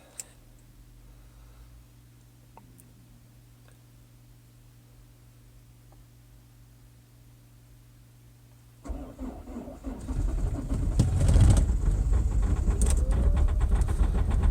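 After a long quiet stretch with a faint hum, a car engine cranks in winter cold and catches, then idles loudly and unevenly, rumbling close by.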